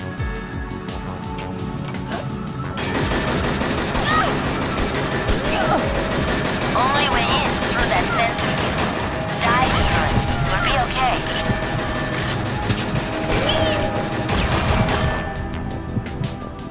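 Gunfire from enemies in the video game Perfect Dark Zero, loud and dense, with bursts of shots layered over a continuous game soundtrack and effects throughout.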